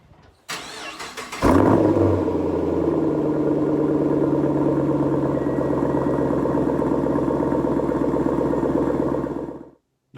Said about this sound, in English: let's just go ahead and get a cold start in here and see how she sounds